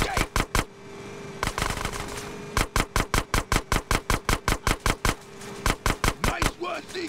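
Gunfire in the video game GTA San Andreas: rapid bursts of sharp, loud shots in quick rhythmic volleys with brief pauses between them, over a low background rumble.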